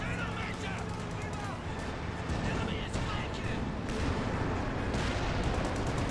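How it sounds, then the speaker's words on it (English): Artillery shells from a 155mm barrage in Company of Heroes 2 rumble and crack in a dense, continuous wartime din, with a voice talking over the battle noise. "the mark target and the 155mm artillery barrage"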